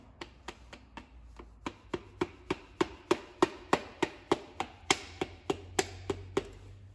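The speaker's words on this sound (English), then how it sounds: "And now with the soft thing, I'm gonna pull the piston down" A soft mallet taps a piston down into the cylinder of a 1.9 TDI PD racing diesel engine build, giving a steady run of about twenty close, evenly spaced knocks with no talk.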